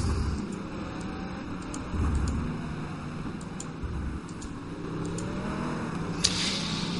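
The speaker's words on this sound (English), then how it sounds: "There's the bunch of cars about to be lapped there." A pack of race cars at Sportsland Sugo during a Black Cup round, about to be lapped: steady distant engine drone with rising and falling revs under broadband track noise, a few faint ticks and one sharp click near the end.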